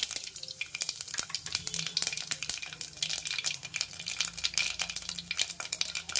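Mustard seeds and cumin splutter in hot oil in a bowl, a dense crackling sizzle with rapid sharp pops bursting irregularly throughout, close and lively with no talking.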